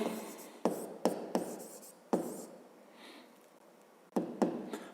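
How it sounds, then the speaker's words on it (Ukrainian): Chalk or pen writing out a fifth-grade math solution, with several sharp tapping strokes in short bursts and a quiet pause midway, close and fairly soft with no talk. "Пишемо перше розв'язання."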